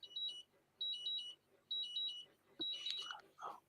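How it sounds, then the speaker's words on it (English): A device alarm beeps in repeated short bursts of two or three high tones separated by pauses, fairly quiet, followed by a brief clatter and faint talking at the end. "Your thing's beeping, Mikey."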